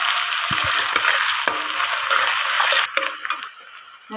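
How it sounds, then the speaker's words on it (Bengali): Chopped onions frying in hot oil in a pan, a steady loud sizzle with a few spoon scrapes, easing off near the end. "পেঁয়াজগুলো আমি ভালো করে ভেজে নেবো"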